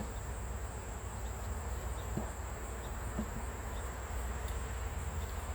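Honeybees hum in an opened hive during a summer honey pull and queen check, a steady close drone with a few faint knocks and clicks of handling.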